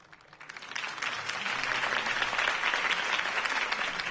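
Crowd applause swelling steadily after a campaign speech in the Batman Telltale game, dense clapping that builds from quiet to a full sustained roar.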